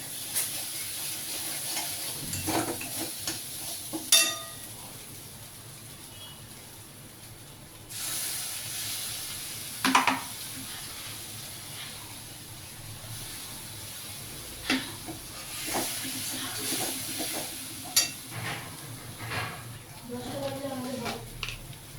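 Spiced egg curry masala frying in a little oil, giving a low steady sizzle with occasional stirring scrapes and clinks, with a voice speaking now and then over it.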